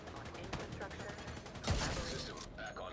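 Gunfire from the Chain Killer shotgun in The Division 2 sounds as a heavy blast amid faint in-game combat noise, with a voice talking over it.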